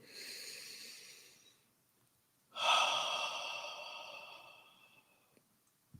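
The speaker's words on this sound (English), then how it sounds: "take a deep breath. Another deep breath." Slow, deep breaths during a guided practice: a long soft inhale, a pause, then a louder, longer exhale fading out, with no talking.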